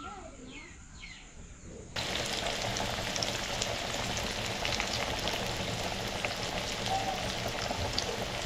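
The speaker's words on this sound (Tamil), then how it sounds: "இப்போ நான் பிடிச்ச 4வது விரால் மீனை சமைச்சாச்சு. வறுத்துட்டேன் ஃபுல்லாக" Snakehead fish fries in a pan with a dense, steady sizzle that starts abruptly and stays loud and crackling to the end, after a brief quieter stretch with faint voices.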